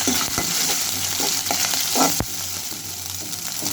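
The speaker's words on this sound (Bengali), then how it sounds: "একটু নাড়াচাড়া করে নিলাম তেলে আদা রসুন দিয়ে" Ginger and garlic frying in oil while being stirred, a loud close sizzle with repeated scraping strokes of a spoon against the pan, one sharp knock near the end.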